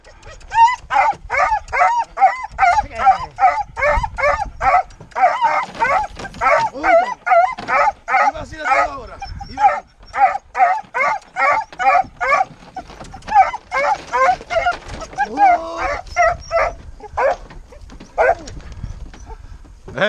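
Hunting dogs bark repeatedly and rhythmically during a wild boar hunt, a steady run of yips and barks close by, with occasional whimpers and some voices mixed in.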